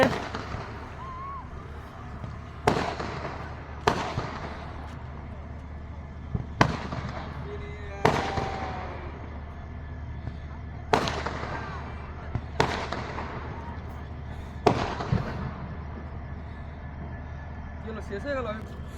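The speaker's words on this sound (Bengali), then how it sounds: "এটা এদিকে দোদমা ফাটছে।" Dodoma firecrackers burst one after another on a hilltop at night, about eight loud sharp bangs spaced a couple of seconds apart and echoing into the distance, with a low steady rumble underneath and people talking throughout.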